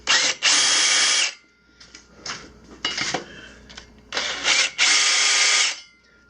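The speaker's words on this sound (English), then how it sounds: "I'm just using a 5/16 drill bit just to get that center" A power drill with a 5/16 bit bores a hole during metal fabrication, loud whirring bursts starting and stopping several times, with clinking and rattling of metal between runs, close up and alone.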